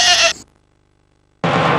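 Sheep bleating loudly in a sheep's milk cheese commercial, a bright bleat followed by a second after a short silence.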